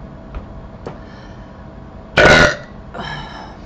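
A woman lets out one loud, close, rasping burp lasting about a third of a second, followed by a softer, shorter gurgling burp, with only faint clicks and quiet room noise before them.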